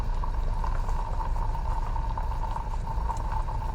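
Steady bubbling and gentle roiling of liquid boiling in a gas-heated distillation flask, close by and continuous, with a low hum underneath.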